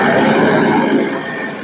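A used car's Eagle engine revving, a loud, close, steady mechanical roar held briefly without pause.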